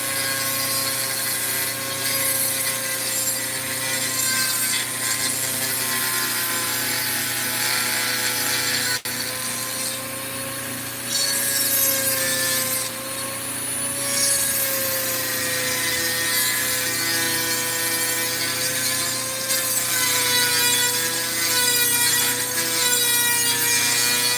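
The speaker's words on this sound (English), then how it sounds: "I hate using this Dremel with you guys because it's so loud" A Dremel rotary tool grinds through Utah green garnet with a loud, high-pitched, continuous whine that wavers slightly as pressure changes, and no voices are heard.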